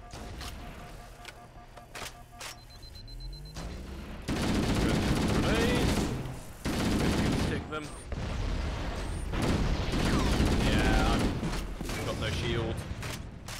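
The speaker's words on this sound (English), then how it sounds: "Rapid fire." Bursts of rapid weapon fire in Halo: Combat Evolved come in several loud, sustained volleys separated by short breaks, with a person's voice talking in the quieter stretches.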